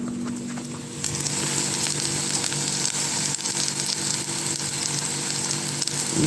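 Mushrooms fry in a hot pan with a steady crackling sizzle, close and continuous, the bubbling hiss growing slightly louder after the first second.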